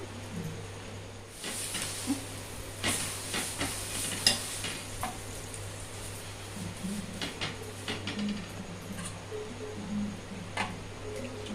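Rava dosa batter sizzles quietly on a hot pan with a soft continuous crackle, punctuated by faint scattered ticks and light scrapes, close and low in level.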